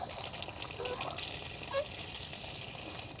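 A Woodford Model 17 outdoor spigot on a house is turned on, and water gushes out in a steady, close, full hiss with a few small sputters.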